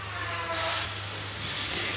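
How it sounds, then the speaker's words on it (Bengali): Onion and green chilies dropped into hot oil in a home kitchen burst into a loud, steady sizzling hiss that swells and keeps crackling, with a low hum underneath. "এই যে পেঁয়াজ কাঁচামরিচ তেলের উপরে দিয়ে দিছি"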